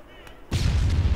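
A heavy tank cannon blast from a T-100 Varsuk tank in Arma 3 booms in after a short lull, its deep rumbling report sustained and loud.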